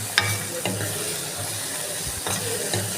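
Ingredients for tandoori bharta frying in a pan with green chillies, a steady close sizzle with faint stirring scrapes and a few soft knocks over the continuous hiss.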